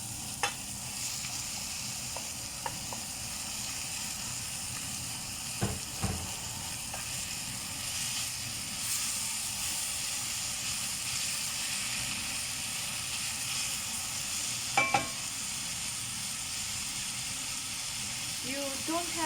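Ground beef frying in a pan with browned garlic and onion for a fresh tomato sauce, a continuous sizzling hiss with occasional clinks and stirring scrapes, close, while a person talks over it.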